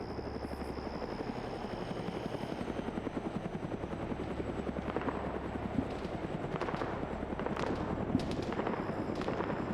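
A helicopter in the Arma military game OFCRA thrums continuously with rapid rotor chop and a high whine, with a few distant gunshots cracking in the background.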